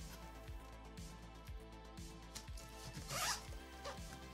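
Duct tape pulled and pressed while quarter pieces of a duct tape, PLA and hot glue night plane are taped together, a quiet series of rhythmic ripping strips about every half second, with a louder rasp near the end.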